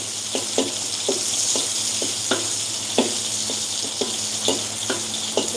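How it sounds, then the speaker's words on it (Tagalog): Tilapia frying in a pan for a coconut-milk ginataan dish, a steady sizzle under repeated sharp clicks and scrapes of stirring, close and moderately loud with no talk. "i-fry natin dito sa gilid."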